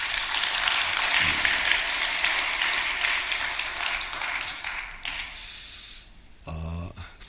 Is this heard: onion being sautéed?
no